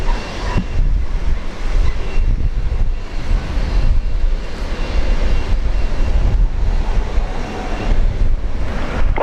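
A United airliner takes off from runway 01 right at Brisbane Airport, a broad, continuous engine roar with wind buffeting, fairly loud and steady with no voices.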